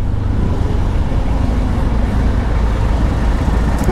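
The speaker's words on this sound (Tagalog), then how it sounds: "Grabe traffic dito ay." Heavy road traffic rumbles loud and continuous, a dense low wash of passing car and truck engines close by, with no talk.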